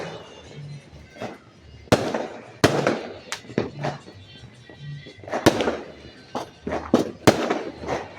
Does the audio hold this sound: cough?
no